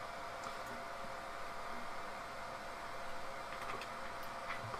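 An Ender 2 Pro 3D printer running, giving a continuous fan-like whir with faint higher motor whines rising and fading, steady and fairly loud, with no voices.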